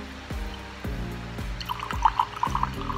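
Wine pouring through an aerator pourer into a glass, a steady liquid stream with bubbling, gurgling trickles and a few regular drip-like pulses, close and moderately quiet, no talking.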